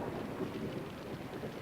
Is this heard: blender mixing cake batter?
no